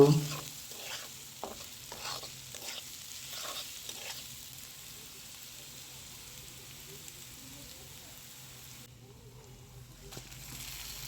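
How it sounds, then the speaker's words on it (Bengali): Onion fries in oil with salt, the base for a spicy prawn bhuna. A run of rhythmic spatula scrapes opens it, then a soft, low sizzle continues quietly on its own. "পরিমাণ মতো তেল দিব পেঁয়াজ দিব স্বাদ মতো লবণ দিব"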